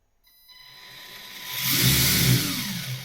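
A small WLToys 284161 1/28-scale 4WD RC buggy's electric motor spins up, a thin whine rising in pitch and loudness, with a couple of brief surges near the end; no one talks.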